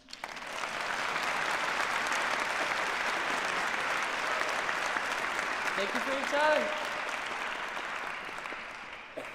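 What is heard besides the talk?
round of applause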